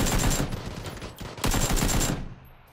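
Rapid bursts of pistol gunfire in a video game, two dense volleys of loud cracking shots separated by a short pause, trailing off at the end.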